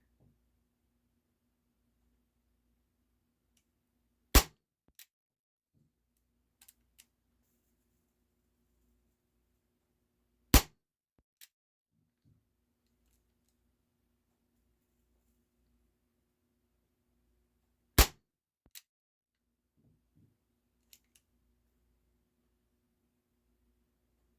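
An Umarex H&K VP9 air pistol fires three sharp, loud pops, spaced several seconds apart in a quiet basement, each followed by faint mechanical clicks.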